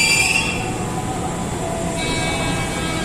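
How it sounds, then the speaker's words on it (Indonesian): A Tokyu 8518 KRL commuter train pulls into platform 2 at Depok Baru station, its steady rolling rumble close and continuous, with a thin high metallic wheel squeal running over the top. "Ini TM 6034 masuk jalur 2 stasiun Depok Baru."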